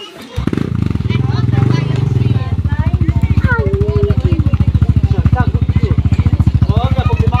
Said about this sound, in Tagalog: Ayan na, may mga motor na.